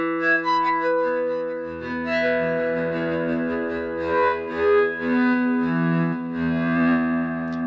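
Dense, sustained chords from the Outersect Modeler synthesizer, a physical-modeling instrument imitating acoustic and electroacoustic sounds, layered with rich harmonics and an effects-laden, slightly distorted tone that swells and shifts throughout, with no voices.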